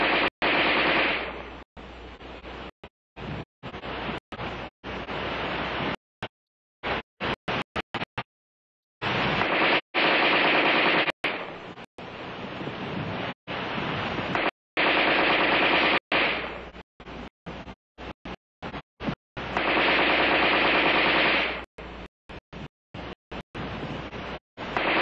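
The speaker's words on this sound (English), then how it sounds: "The preceding demonstration of rapid fire illustrated the use of preloaded magazines." An ArmaLite AR-10 rifle fires rapid automatic bursts outdoors, loud and close, with long rattling strings broken by short pauses and single shots, and no voices.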